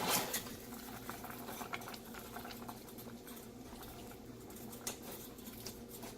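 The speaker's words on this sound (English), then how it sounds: "now that it is at a boil and reducing to a simmer" A beer-braised chicken stew with brown sugar and Dijon mustard bubbling in a pot as it reduces to a simmer, a steady close blubbing patter with small popping bursts throughout.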